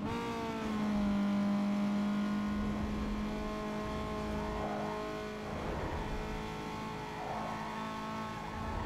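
A racing car engine in Need for Speed Underground 2 whines high and loud, its pitch stepping down and climbing again as it shifts through gears.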